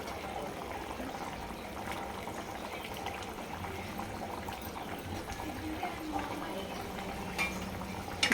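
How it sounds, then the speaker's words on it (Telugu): Tamarind stew (pulusu) with stuffed ivy gourd simmers in a pot, a faint steady bubbling with occasional soft clinks of a utensil. "ఒకసారి కలుపుకొని కొంచెం కొద్ది మరగనిద్దాం"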